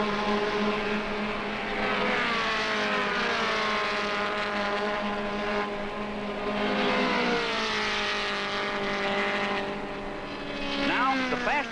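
Super-Vee race cars with water-cooled engines driving on a track, a continuous loud engine drone with pitch rising and falling as cars pass, and a commentator's voice faintly under it.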